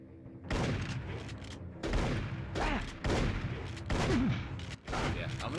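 Bursts of rocket-launcher fire and explosions from the video game Turok: Rage Wars come in irregular, closely spaced booms, loud and punchy, with a few short descending effect tones between them.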